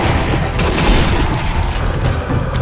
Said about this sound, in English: Three grenades.